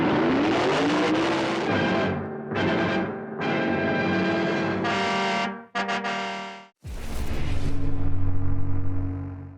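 A car engine roaring and revving in a trailer for the 1970s horror film The Car, loud and distorted, in several surging bursts with brief gaps, then a sustained heavy rumble.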